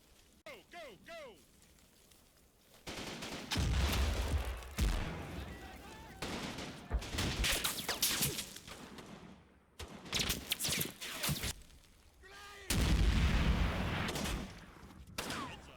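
Bursts of rifle fire and grenade blasts during a World War II bunker assault in Combat Mission, loud volleys coming in clusters with short lulls between.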